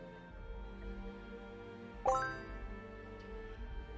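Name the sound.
donation alert bell chime during livestream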